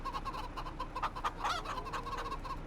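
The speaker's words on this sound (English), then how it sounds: "Hello, chickens." Chickens in Farming Simulator 25 cluck in a short run of soft repeated calls, a few louder bursts in the middle, with a faint low background hum beneath and no talk.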